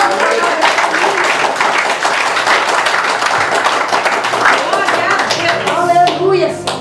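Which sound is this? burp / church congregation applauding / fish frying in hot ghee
church congregation applauding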